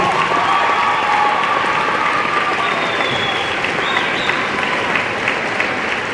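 Audience at an NJROTC pass in review ceremony applauding a rifle team member, a loud dense sustained clapping from a large crowd that holds steady throughout.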